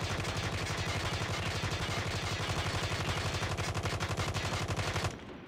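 A HOLGER 26 converted to an SMG fires one sustained full-auto burst in a video game, loud, dense rapid shots for about five seconds with no pauses, then cutting off abruptly.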